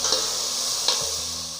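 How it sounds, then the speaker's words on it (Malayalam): Tomatoes and salt for a homemade soup are stirred in a hot pan, giving a continuous close sizzle with a couple of soft scrapes. "കൂടെ തന്നെ ആവശ്യത്തിന് ഉപ്പ് കൂടി ചേർത്ത് നല്ലതുപോലെ ഒന്ന് മിക്സ് ചെയ്യാം."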